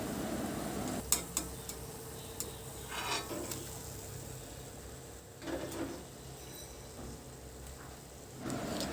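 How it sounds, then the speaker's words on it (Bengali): Mango malpua fries in a pan with a steady, soft sizzle, broken by a few sharp clicks and scrapes from a utensil against the pan. No voices are heard. "একইভাবে সবগুলোই ভেজে নেব।"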